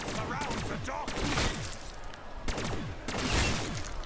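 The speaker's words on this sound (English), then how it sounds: "Oh, give me more fireworks." Rapid crackling bursts from in-game fireworks in Black Ops III, dense and continuous popping explosions with someone talking faintly over them.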